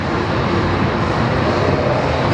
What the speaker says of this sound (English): this is literally a Subaru engine